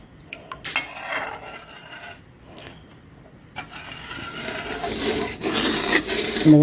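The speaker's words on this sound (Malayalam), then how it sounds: "കൈയെടുക്കാതെ അത് ഇളക്കിക്കൊണ്ടേയിരിക്കണം" Arrowroot (koova) payasam being stirred continuously in a pot as it thickens, giving a steady scraping and clinking of a spoon against metal that grows louder toward the end, with no talk.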